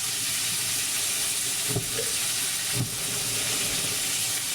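Turmeric powder goes into a hot frying pan of spices, and a steady close hiss and sizzle runs throughout with a couple of soft knocks, no voices.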